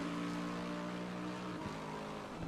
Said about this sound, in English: Hearing that wasp of an Audi engine from the outside while Harvey goes past